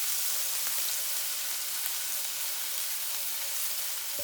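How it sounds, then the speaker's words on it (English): Garlic sizzles in olive oil, a dense, bright, continuous hiss with fine crackles, close and steady from start to finish with no talking. "So we're just going to get this garlic all in this olive oil real well."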